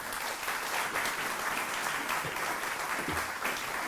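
Audience applause welcoming a lecturer to a church lecture hall, steady clapping from a crowd filling the room for about four seconds without speech.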